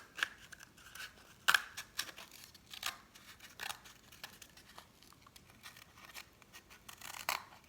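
Scissors snip through a cardboard toilet paper roll as a series of crisp, irregular cuts, close and fairly quiet, each followed by a short pause.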